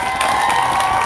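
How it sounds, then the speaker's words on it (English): A brief burst of cheering and crowd noise from an audience at a live Seattle event for youth speakers, with some shouting mixed into a steady roar. "I would hope that we can all give these youth another round of applause."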